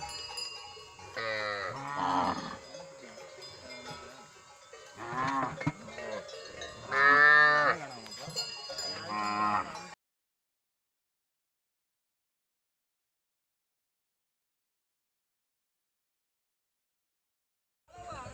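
Theni hill cattle herd lowing repeatedly for about ten seconds, several loud, drawn-out moos overlapping with a faint bell, then near silence.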